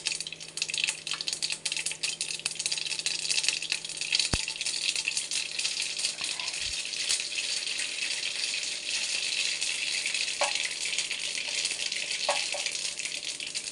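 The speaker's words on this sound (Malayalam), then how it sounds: "ഞാൻ അതിലേക്ക് കടുകിടാൻ പോവുകയാണ്. കടുകിട്ടു." Mustard seeds crackle in hot oil in a pan, a steady close sizzle with a few sharp pops rising out of the hiss, and no voices.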